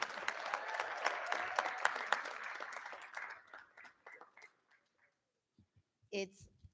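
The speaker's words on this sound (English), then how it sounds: "Let's have a round of applause for Ms. Mallon" Audience applause at a school district board meeting, a crowd clapping briskly and loudly, then thinning out to scattered claps before dying away, with a brief voice near the end.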